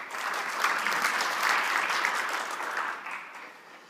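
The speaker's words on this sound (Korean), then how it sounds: "많은 박수로 부탁드리겠습니다" Conference audience at a 2013 cloud computing event applauding, a dense wash of clapping that swells, holds steady for several seconds and then begins to fade.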